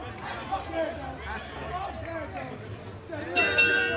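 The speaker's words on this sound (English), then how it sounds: "There's the bell." A boxing ring bell rings near the end, a bright metallic clang at the Jake Paul vs Tommy Fury professional boxing bout, heard over steady commentary and crowd chatter in the arena.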